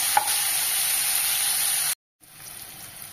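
Tomatoes sauté in a pan for brinjal and drumstick kuzhambu, giving a steady close hiss of frying with a short silent cut partway through, then the sizzle resumes more softly.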